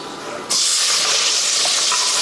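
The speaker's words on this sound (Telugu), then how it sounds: "చూసారా, నూనె వేడెక్కిపోయింది. ఈ లోపల అది ఎగుతూ ఉంటుంది." Onions frying in hot oil with cloves, cardamom and cinnamon for a Telugu-style masala, a dense, steady sizzle that jumps louder after a short quieter start and keeps hissing close up.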